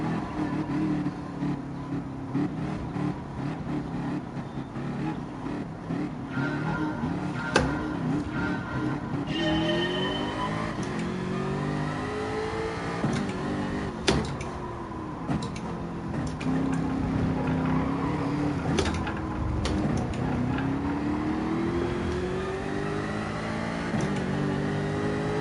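Engine of a race car in a racing video game, a steady droning whine that rises and falls with shifting revs through the whole stretch, with faint clicks and other cars mixed in and no talking.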